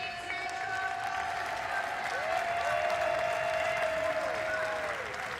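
A home crowd at an international track cycling race in Milton, Canada cheers and applauds steadily, a dense roar of clapping that carries on throughout with faint talk underneath.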